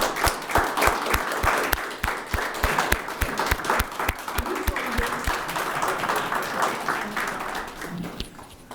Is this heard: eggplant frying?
no